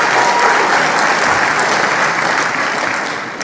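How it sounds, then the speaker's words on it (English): A studio audience bursts into loud, dense applause at a political talk event, steady clapping from many hands that fades slightly toward the end, with no one speaking. "So we just clapped for Ben comparing primates to humans"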